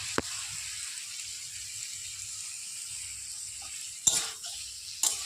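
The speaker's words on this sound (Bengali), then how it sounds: "এইটা কিছুক্ষণ নেড়ে চেড়ে নিয়ে" Potatoes frying in a pan with tomato, turmeric and salt, a soft low sizzle with faint stirring, broken by a few sharp scrapes and knocks of a utensil against the pan.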